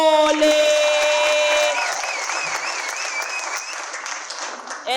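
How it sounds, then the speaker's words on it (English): An audience applauding at a poetry slam competition, dense clapping from a crowd that continues for several seconds, with a voice and a whistling or cheering tone over it at first. "A round of applause for Naledi Mafole."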